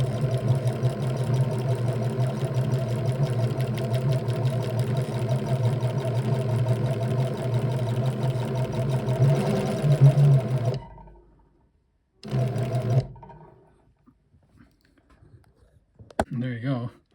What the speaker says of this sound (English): It's chaining off.